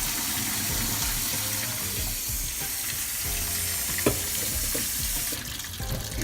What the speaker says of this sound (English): I am running the cold water since this is really hot